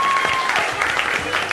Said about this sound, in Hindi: तालियों से बताए, बोलना नहीं है।